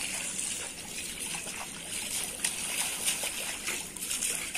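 Hands and face being washed in a village mosque pond in Bangladesh, with steady close splashing and trickling water, small scoops and pours repeating without pause against a faint outdoor background.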